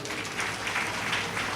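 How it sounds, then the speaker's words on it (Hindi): Audience clapping during a Ram Katha devotional discourse for Tulsi Jayanti, a steady dense wash of applause filling the whole moment at moderate loudness, with no voices over it. "बिल्कुल ताली बजाओ।"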